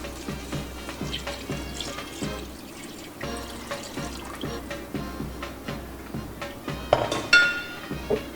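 Water poured into a cooking pot of beans, a close, continuous splashing and gurgling stream with faint clinks of the pot.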